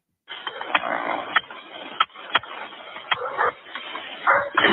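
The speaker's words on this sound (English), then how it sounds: "Now you can hear the dogs barking in the background." Repeated dog barks ring out over a muffled, narrow-band phone-like recording, several sharp yaps scattered through the clip amid background noise.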